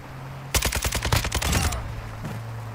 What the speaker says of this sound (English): That's a PK. Machine gun.